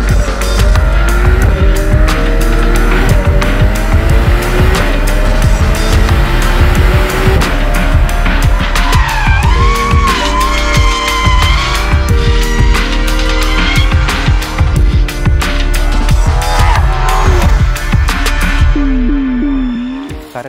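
A Ferrari 12Cilindri with its naturally aspirated 6.5-litre V12 drives hard, loud and close, its engine revving continuously over rhythmic percussive music, with tire squeal appearing in the middle.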